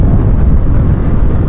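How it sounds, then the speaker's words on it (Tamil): Strong, steady wind buffeting the microphone, a loud continuous low roar with no break. "காற்று இப்படி அடிக்குது"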